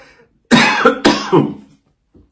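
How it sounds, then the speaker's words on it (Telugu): Two sharp, loud coughs from a nearby person follow in quick succession, then a short silence. "దగ్గు వచ్చింది దగ్గే"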